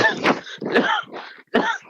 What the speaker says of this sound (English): Oh, that cough is back.